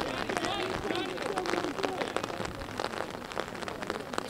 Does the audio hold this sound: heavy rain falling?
yes